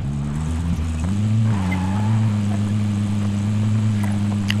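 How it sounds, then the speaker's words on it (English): A helicopter in Call of Duty: Modern Warfare flies nearby, a steady low rotor drone with a faint whine that holds level throughout, fairly close and with no talk over it. "there's a chopper over to our right"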